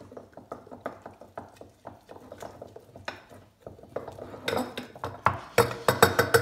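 A sourdough starter gets mixed with water in a pot, heard as a close series of rhythmic clinking, scraping stirs that grow louder and sharper toward the end.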